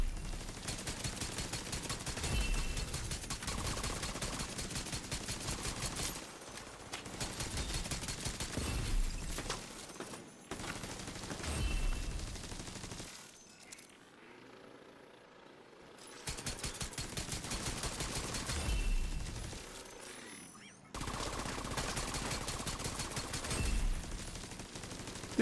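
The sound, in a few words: heavy gunfire in the video game The Division 2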